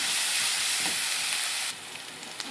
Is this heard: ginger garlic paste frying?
yes